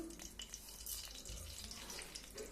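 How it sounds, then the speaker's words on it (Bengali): Panch phoron spices dropped into hot oil, giving a steady close crackling sizzle with small pops and hiss throughout. "এটা গরম হয়ে গেছে, 5 ফোড়ন দিচ্ছি"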